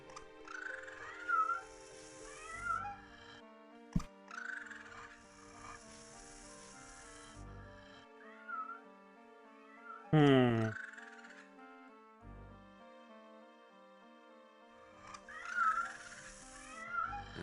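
Cats meow in a lab full of cages in the video game Tex Murphy: Overseer; several short, moderately loud meows come at intervals over a looping musical backdrop, with one louder cry near the middle.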